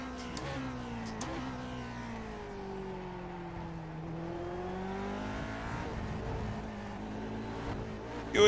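A Grand Prix Legends race car at Magny-Cours in iRacing drones steadily through gear changes, its engine note rising and falling as it runs over curbs, with brief rattling bumps near the end.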